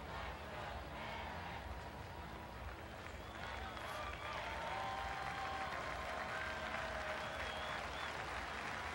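Football stadium crowd at the 2002 Seattle Bowl, Wake Forest versus Oregon, keeps up a broad, steady roar of applause and cheering for the full stretch, distant and dense, with a few whistles rising above it.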